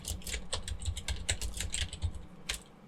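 A git bisect command is typed on a computer keyboard as a quick, steady run of close keystrokes, clicking alone in a quiet room.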